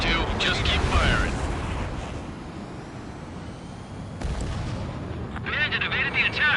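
Heavy gunfire and rumbling explosions from aerial combat in Ace Combat 7 boom continuously, with radio chatter and voices cutting in over the battle noise.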